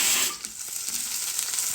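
Onion, garlic and green chilies frying in a pan after mustard seeds have popped: a soft, steady sizzle with faint scraping and stirring clicks, quiet and close.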